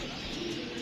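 A pigeon coos at a rooftop pigeon loft, a low steady murmur lasting under a second amid outdoor background noise.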